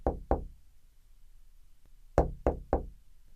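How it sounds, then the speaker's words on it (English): Knocking on an office door: two sharp knocks, a pause, then three more in quick succession, close and distinct against a quiet room. "James knocks on Mr. Barnes's door and enters his office."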